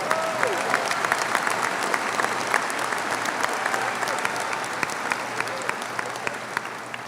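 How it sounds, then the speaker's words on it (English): A crowd at a 2024 high school graduation ceremony claps for the valedictorian and salutatorian, a dense, sustained round of applause filling the hall without a break. "Let's give our valedictorian and our salutatorian another big round of applause."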